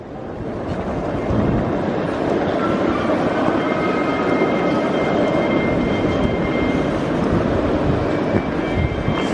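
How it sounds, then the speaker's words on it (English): A passenger train ride on the last leg of a journey home: a steady, loud rumble of wheels and carriage fills the whole stretch with no break and no voices. "Last train of the journey."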